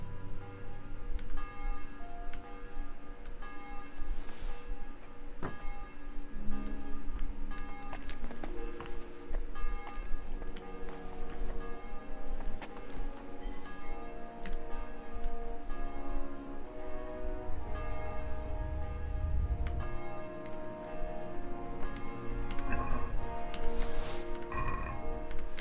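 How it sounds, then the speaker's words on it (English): In the video game Kingdom Come: Deliverance 2, a bell rings repeatedly with resonant tolls that overlap and hang in the air, heard alongside ticking and light footstep sounds. "The bell's ringing for Hans the 5th time."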